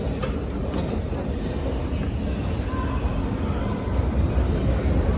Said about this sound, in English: We're now above ground, transferring to an elevated line onto the 7, which is pulling in.